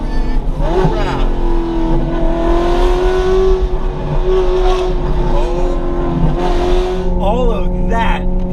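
A rear-wheel-drive Ferrari of about 3,000 pounds under way, its engine droning loud and close with rising and falling revs and gear changes, and voices talking over it.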